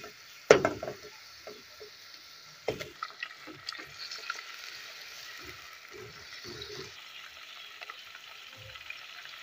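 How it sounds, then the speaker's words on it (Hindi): Meat (gosht) sizzling and frying with onions in a pot as it cooks, a steady moderate sizzle broken by scattered stirring scrapes and clinks, with a sharper knock near the start. "अब हम इसमें गोश्त ऐड कर देंगे और कलर चेंज होने तक पकाएंगे।"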